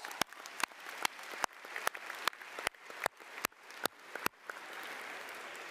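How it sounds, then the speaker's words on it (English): Applause from a high school graduation audience, with a dense wash of clapping punctuated by sharp, regularly spaced loud claps close by, fading toward the end. "give them a round of applause"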